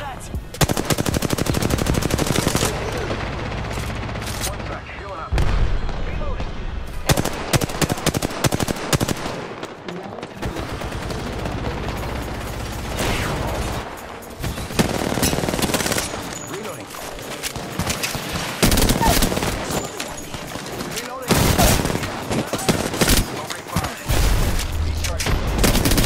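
Sustained machine-gun bursts and rapid shots from Apex Legends gameplay rattle loudly across a long stretch, broken by short gaps, with heavy booms mixed in and voices heard now and then beneath the fire.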